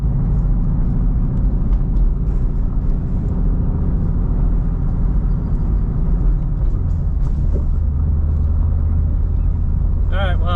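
A car towing a trailer rolls steadily along the road, a constant loud low rumble of engine and tyres with cabin drone, continuous throughout.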